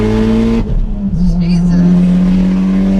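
A 500whp Mitsubishi Evo X accelerating hard, its loud engine drone dropping briefly at a gear change then climbing again, heard close from inside the car with voices over it.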